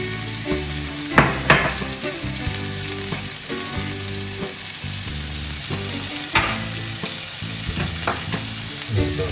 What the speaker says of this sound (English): And now we'll put in our carrots and the onions.